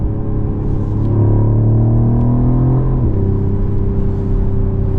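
A 2024 Mercedes-Benz CLE450 coupe engine hums in a deep, steady drone heard from inside the cabin, with the pitch climbing smoothly as it revs, then a brief shift before it settles into a lower, even tone.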